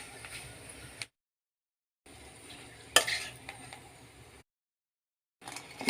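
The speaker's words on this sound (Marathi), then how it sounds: "कांदा इथे छान कुरकुरीत तळून झालेला आहे" Onion slices frying crisp in hot oil in a kadhai while preparing homemade kala masala, with stirring and sizzling heard in short bursts separated by silent gaps and a sharp scrape near the middle.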